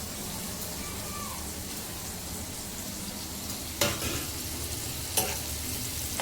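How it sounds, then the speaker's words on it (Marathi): Onions frying in hot oil for a spicy prawn curry, a soft, continuous sizzle with two sharp clanks of a spoon against the pan. "तेल पण तापलाय आणि टाकते ते कांदो"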